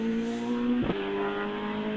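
A rally car on a hillclimb sustains a steady high engine tone, then makes a sharp gear change or burst of revs partway through and carries on at full throttle close by.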